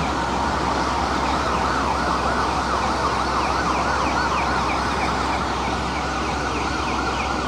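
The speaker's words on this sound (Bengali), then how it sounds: "ফায়ার সার্ভিসের আরেকটা ইউনিট চলে আসছে।" A fire engine's wailing siren sweeps up and down continuously, loud and close, over steady rumbling road and engine noise, arriving at a night fire at an umbrella factory in Khulna.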